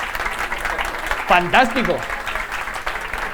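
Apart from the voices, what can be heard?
audience applause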